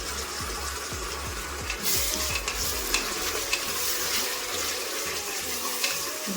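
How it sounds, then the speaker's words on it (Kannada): Onions and green peas fry in a pan with a steady sizzle, while a spoon scrapes and stirs in quick repeated strokes near the start, the hiss growing brighter as the stirring settles, with no talking. "ಇದು ಬಟಾಣಿನೂ ಫ್ರೈ ಆಗಬೇಕು."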